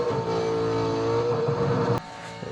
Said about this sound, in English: trying to drive a V8 supercar around Bathurst